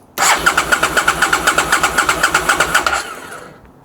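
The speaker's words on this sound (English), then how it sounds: "At least the engine is turning over." An Aprilia SL1000 motorcycle, abandoned since 2005 and not getting fuel from its pump, cranks over without firing: a steady, rapid chugging rhythm of starter pulses lasts about three seconds, then winds down and stops.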